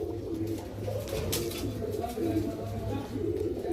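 A pair of Gorra breed pigeons coo nearby, with low, throaty, repeated coos rolling in a steady rhythm over a soft background hum.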